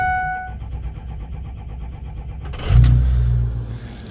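A 2005 Ford F250 4x4 with a Powerstroke diesel engine cranks over after a faint electronic chime, then catches and roars to life with a loud, rough idle close by.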